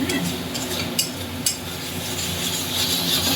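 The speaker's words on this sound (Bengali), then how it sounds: "না নাড়লে কড়াইতে লেগে যাচ্ছে" Spiced small new potatoes being stirred in a kadai over medium heat, with a steady soft sizzle and a couple of scraping clinks of the spoon against the pan, close up and without talk.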